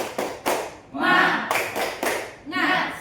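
Sharp claps land in a quick rhythmic pattern, alternating with short chanted voices from a group, the clapping and chanting trading back and forth.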